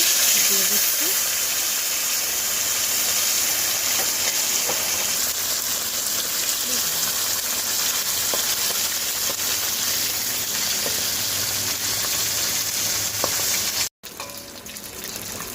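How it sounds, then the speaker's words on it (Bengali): Silver carp sizzles in hot oil in a village kitchen, a steady bright hiss and crackle lasting throughout, with a brief break near the end, while a person talks faintly over it. "তেল গরম হয়ে গেছে হুম মাছটা দিয়ে দিচ্ছি"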